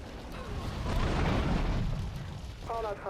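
Explosion blowing out a window in GTA 3, a broad, rumbling burst that swells and lingers for a few seconds, with a brief game voice near the end.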